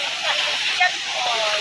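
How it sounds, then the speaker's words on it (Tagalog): A rural waterfall and stream give a steady, close rush of flowing water, a broad continuous hiss with a short splashy swell midway, while a person speaks quietly over it. "ang ganda yung batis"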